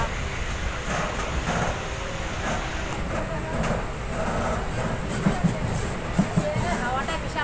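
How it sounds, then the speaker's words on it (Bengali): A passenger train picks up speed, its steady low rumble and rattling carriage noise running throughout, with a few sharp clacks of wheels over rail joints near the end and a voice talking over it. "ওই ট্রেন স্পিড করতে চলছে বাবা"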